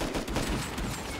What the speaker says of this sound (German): Okay, die sind aber nicht auf mich, die Schüsse.